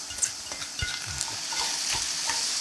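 Close-up stirring and scraping of sliced green garlic shoots into a sauce in a pan, with a faint sizzle beneath, utensil clicks repeating irregularly, no voices.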